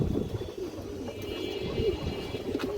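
Pigeons from a large loft of breeding pairs coo in low, soft murmurs that overlap continuously, with faint rustling and a few brief higher chirps.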